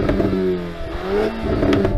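A VW Golf R engine revving with no soft limiter during a drag race sound check, a close, loud, grumbly engine note rising and falling in pitch over two seconds, with no talk.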